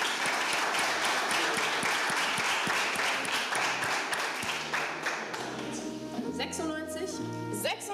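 Live audience at a German poetry slam applauding, dense sustained clapping from a crowd that gives way to music near the end.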